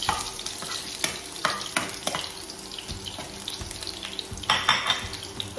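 Garlic fries in a pan during quick home cooking, a soft sizzle mixed with scraping stirs, clinks and a running-water sound from nearby, the whole layer fairly faint and continuous.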